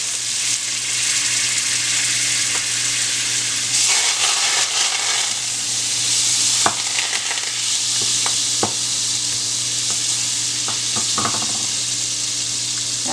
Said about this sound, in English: I have my pan going and I'm going to put a stick of butter.